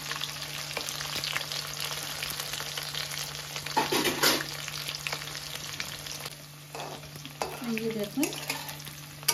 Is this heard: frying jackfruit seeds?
yes